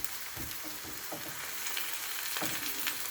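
Meat searing in a hot pan with onions for a Moroccan tajine, a steady close sizzle with a few soft stirring scrapes and low thuds, no talking.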